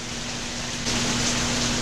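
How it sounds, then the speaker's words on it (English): Steady rain falls in a garden setting, a continuous broadband hiss that grows slightly louder partway through, with no voices. "as you can see, the rain continues"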